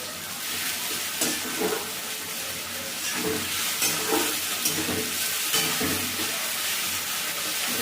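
Chopped onions frying with salt in a pan for a chicken and potato jhol, a continuous soft sizzle with intermittent scraping and stirring sounds close by.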